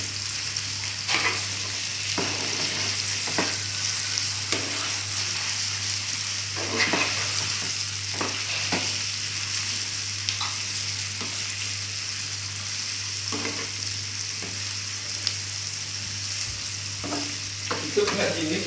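Anti vegetables, already half-cooked from boiling, are stir-fried in a pan in a Balinese home kitchen, a steady close sizzle broken by repeated scraping and clacking as the spatula stirs.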